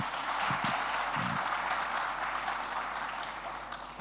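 An audience applauds at a summit talk with a sustained wash of clapping, a few sharper claps standing out near the start before the sound slowly tapers.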